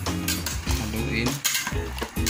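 A utensil stirs pork sinigang made with tamarind mix in a metal pot, producing loud, close clinks and scrapes against the pot in uneven bursts with brief pauses between them.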